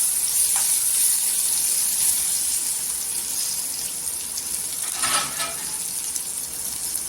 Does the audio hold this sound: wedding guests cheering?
no